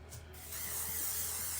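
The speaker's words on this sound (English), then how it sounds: "gonna go back in with my high impact hairspray so you guys can see this again. I'm just going to spray." High impact hairspray sprayed from an aerosol can, one close, continuous hiss that swells and holds steady after a brief quiet start.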